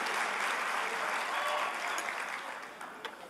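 A church congregation applauds the volunteers during a Sunday service, a dense, steady wash of many hands clapping that fills the room and slowly tapers toward the end.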